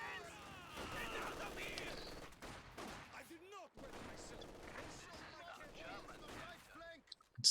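An MG42 machine gun fires in a real-time strategy battle, rapid bursts mixed with other gunfire and explosions at a moderate distance, a steady chaotic din through the clip.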